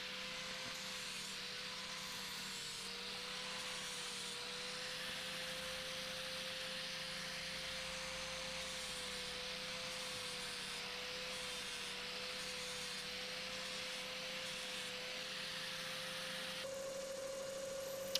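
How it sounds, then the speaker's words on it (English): An angle grinder with a flap disc grinds steadily against oak, sanding away rotten areas, a continuous, even abrasive whine with a droning motor tone lasting throughout. "So it was time to get the angle grinder out with the flappy disc on and sand away all the rotten areas."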